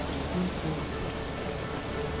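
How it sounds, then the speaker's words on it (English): Steady rain falling in How We Know We're Alive, a soft even patter on surfaces holding at a constant moderate level throughout, with no voices. "Oh, the rain, it makes it so melancholic."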